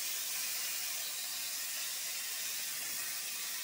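Mango pieces drop into hot mustard oil in a pan during Bengali cooking, giving a steady, soft sizzling hiss that holds evenly throughout with no talking.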